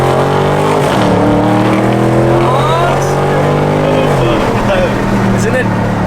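Widebody Dodge Scat Pack roaring as it accelerates hard, loud engine note climbing in pitch through several gear shifts up close, with voices talking and exclaiming over it.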